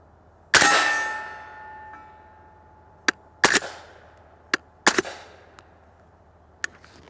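Suppressed PSA JAKL 300 Blackout rifle firing at a steel target outdoors: several sharp shots spaced irregularly, each followed by a bright metallic ring from the steel, the first loudest with a long ringing tail, with quiet gaps between.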